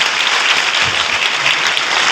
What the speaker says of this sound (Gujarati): તો ખૂબ તાળીઓ વડે આપણે રાવ સાહેબનો ધન્યવાદ આપીએ।